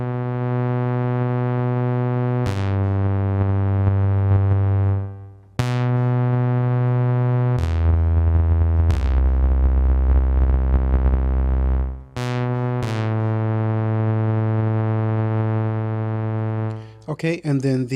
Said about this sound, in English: we have a drive parameter, and this is a filter overdrive to add fullness and saturation to your sound